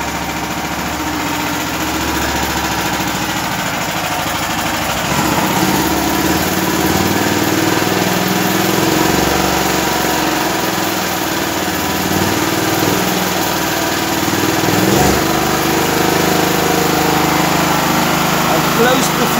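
A Grip 13hp small engine with fuel left in the carburetor runs after sitting unused for a year, a steady loud buzzing drone that stays constant throughout.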